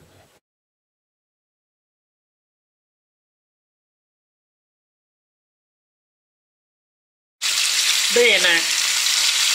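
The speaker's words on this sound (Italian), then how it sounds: "abbiamo messo a friggere i pezzi di baccalà impanati con farina bianca" Flour-coated salt cod pieces hiss and sizzle in hot olive oil, a dense steady frying sound that starts abruptly after a long silence, with a brief voice over it.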